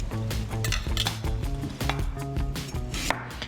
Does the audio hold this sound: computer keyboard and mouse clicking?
no